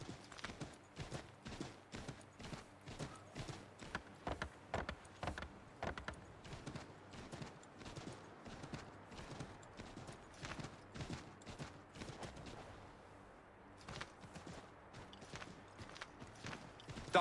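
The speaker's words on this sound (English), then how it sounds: "Take my horse." Steady horse hoofbeats in Assassin's Creed III Remastered clip-clop in a quick, even rhythm throughout, fairly close and moderately loud, with a brief lull near the end.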